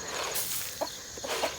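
Backyard chickens around a compost pile give a few soft, short clucks at a moderate distance, heard over a steady outdoor background hiss.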